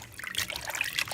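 Water is poured into a container, a brief close trickling and splashing pour with bright liquid flicks, heard alone without speech.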